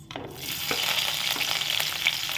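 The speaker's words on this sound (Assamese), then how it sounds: "পিঁয়াজটো মই ৰঙচুৱা হোৱালৈকে অকণমান ভাজি দিম" Chopped onions frying in a wok after panch phoron spices go in, an even, close, loud sizzle with faint scraping from stirring, no voices.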